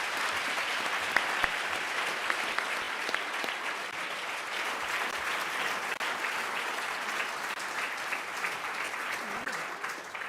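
An audience applauds a panel at the close of a discussion event, a steady wash of clapping that stays fairly quiet and even throughout, without a break.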